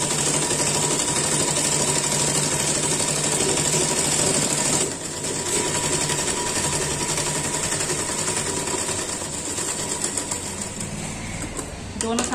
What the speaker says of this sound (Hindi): अब मैं दूसरी साइड सिलाई लगा रही हूँ